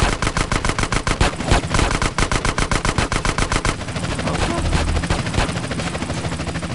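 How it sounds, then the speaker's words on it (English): Rapid automatic gunfire in GTA San Andreas rattles loud and close in steady bursts, then gives way to denser, overlapping shots over a rumbling backdrop. "Motherfucker was shooting at me."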